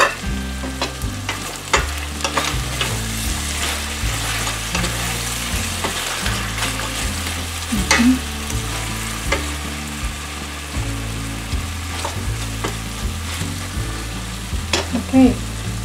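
Chicken afritada simmers in a pan with a steady, close sizzle and bubbling, while a spoon stirs through it in repeated scraping strokes. No one speaks.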